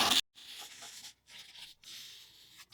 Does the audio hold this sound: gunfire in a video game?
no